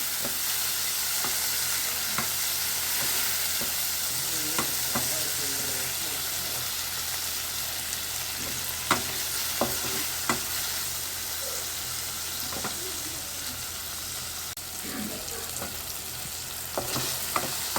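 Chopped tomatoes sauté in a pan for a spicy kara chutney. A steady, bright sizzle fills the whole stretch, with repeated scraping and stirring strokes of a spatula.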